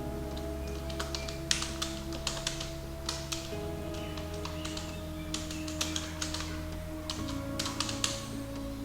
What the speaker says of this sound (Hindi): अब यह रकम मैं वर्ड की सूरत में भी लिख देता हूँ।